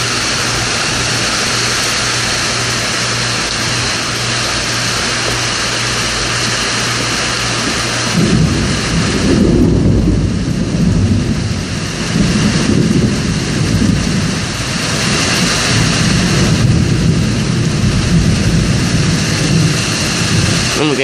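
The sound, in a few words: thunderstorm with thunder and rain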